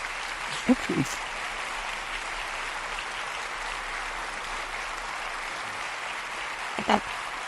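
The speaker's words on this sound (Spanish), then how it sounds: "¿No le dan un aplauso a Dios?" A church congregation applauds in a steady, sustained wash of clapping that fills the room, with a couple of brief louder knocks near the start and end.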